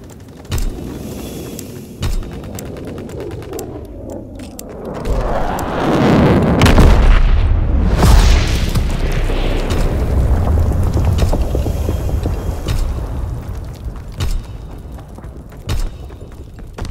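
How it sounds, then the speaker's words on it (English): V2 rocket launching in a video game, with a rising roar and rumbling blast that builds around the middle and then slowly fades, framed by a few sharp clicks. "Launching V2 rocket, leave nothing but trouble."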